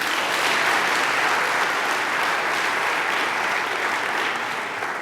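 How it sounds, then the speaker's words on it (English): Sustained audience clapping during a spiritual talk, a loud, full and even roar of many hands from start to finish with no pauses or voices standing out. "If you're happy and you know it, clap your hands."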